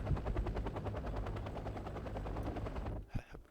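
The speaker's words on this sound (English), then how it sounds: "Thanks to this amazing Apache helicopter" Rapid, sustained automatic gunfire from an Apache attack helicopter in the Wargame Red Dragon strategy game, a steady rattling burst over a low rotor drone that cuts off near the end, followed by a couple of softer thuds.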